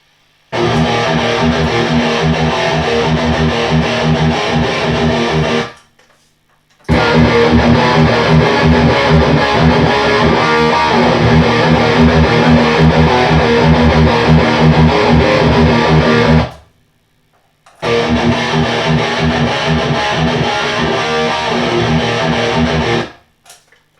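Distorted electric guitar plays loud, thick chords through a Bugera tube amp in three long passages, separated by brief silent gaps.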